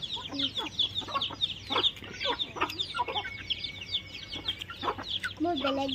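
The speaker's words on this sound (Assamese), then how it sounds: "এইখিনি আমাৰ মুৰ্গীখিনি" Backyard chickens and young chicks cluck and peep in an ongoing, busy chorus near a village home, with brief human voices mixed in underneath.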